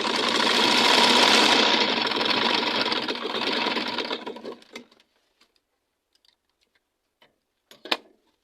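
Sewing machine stitching the edge of satin fabric, one continuous run of a few seconds that slows and stops, followed by faint clicks and handling sounds.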